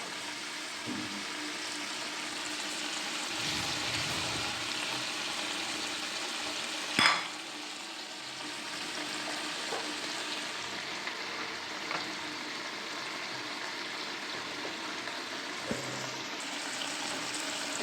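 Cauliflower frying in a pan for a cauliflower fish curry, a steady close sizzle running throughout with a few sharp clinks and stirring knocks, one louder bump near the middle, no voices.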